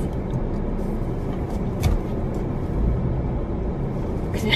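A car rolls slowly into an airport arrivals pickup area with a steady, low engine and road rumble heard from inside the cabin, plus a few faint knocks.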